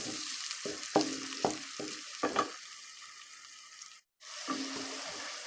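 Tomatoes frying with garlic in a pan, a soft sizzle punctuated by a run of spoon or spatula scrapes and stirs, then a short gap before the gentle frying resumes.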